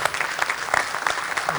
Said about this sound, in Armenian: Ամեն դեպքում ուզում եմ ծափահարենք թիմին